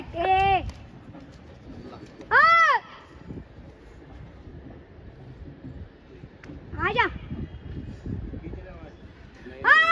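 Domestic pigeons coo in a few separate bursts, close by, with bird noise and a low background murmur between calls.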